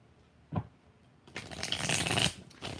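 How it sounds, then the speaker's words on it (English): Tarot cards are shuffled close by, with a single short snap and then a sustained riffling flutter lasting about a second, followed by a brief final burst. "5 shuffles."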